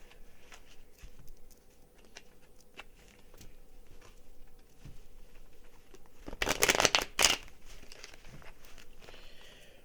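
A deck of cards being shuffled by hand, a short, loud burst of rapid riffling flutter after several seconds of quiet handling and faint rustling.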